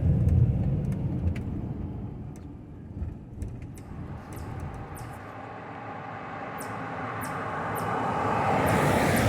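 A van rolls along a narrow countryside road, its engine and tire rumble steady and close, easing slightly midway before building again, with a few faint clicks over the drone.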